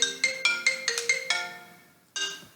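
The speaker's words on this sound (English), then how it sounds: "That's not even a real phone call" A telephone ringtone plays a quick run of bright electronic notes in a rhythmic melodic pattern, clear and moderately quiet, then pauses briefly before starting again.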